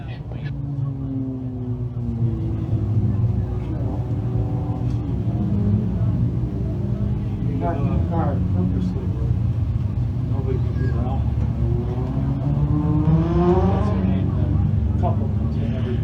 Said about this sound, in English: Heat 2 for the Sundance Leisure Thunder Cars on track.